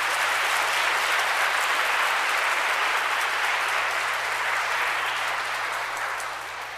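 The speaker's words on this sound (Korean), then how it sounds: "큰 박수 부탁드립니다." Sustained applause fills a baptism ceremony in a Catholic church, a dense, steady clapping that carries evenly throughout and tapers slightly toward the end, with no talk over it.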